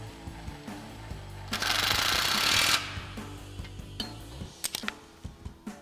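An impact wrench fitted with an 11 mm socket buzzes for about a second on a lock nut during a Jeep Wrangler JK suspension lift install, surrounded by scattered metallic clicks and taps of tools.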